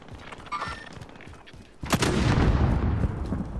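Gunfire in Call of Duty: Modern Warfare, with a sharp loud shot and then a sustained roar of rapid fire and blasts. A softer stretch of game ambience comes before it.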